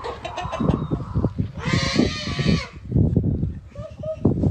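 Chicken squawking loudly as it goes after a small child of about two or three, with a burst of harsh, broadband flapping and clucking in the middle and animal calls mixed with voices throughout.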